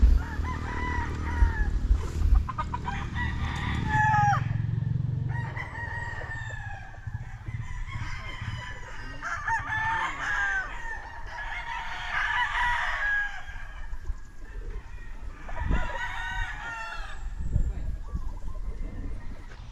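Roosters crow repeatedly at a poultry farm, with chickens clucking in between. The crows come in close succession at a moderate distance, and a low rumble and faint voices sit underneath.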